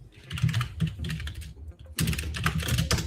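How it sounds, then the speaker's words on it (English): Rapid clattering keystrokes on a computer keyboard, close and steady for over a second, a brief pause, then a denser burst of typing resuming, with no voices. "Is my keyboard too loud, by the way?"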